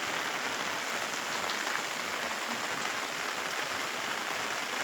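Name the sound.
rain falling in the early morning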